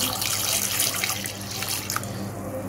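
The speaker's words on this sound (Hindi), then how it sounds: "सबसे पहले इसमें पानी ऐड कर देंगे, इनको बॉईल करना है।" Water pours steadily into a cooking pot that already holds garlic, ready for boiling. The splashing, hissing flow is close and continuous, with no talking.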